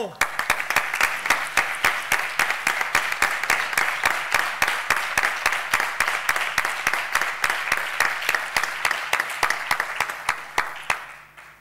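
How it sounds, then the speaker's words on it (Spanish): Applause from an audience at an award ceremony for the Spanish underwater video championship: dense, steady clapping that continues for about eleven seconds and thins out at the very end. "Aplausos fuertes a los dos."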